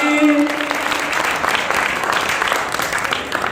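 An audience at a Hindi kavi sammelan poetry gathering in Reusa breaks into dense, sustained applause filling the hall, with a brief voice at the start.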